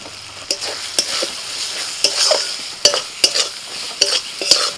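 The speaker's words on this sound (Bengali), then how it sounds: "মশলা ভালো করে কষানো হয়ে গেছে।" Spices for a fish curry sizzle loudly in a pan: dried chili, cumin paste, turmeric, salt and tomato. A spatula scrapes and stirs in a rhythmic series of sharp strokes over a constant frying hiss.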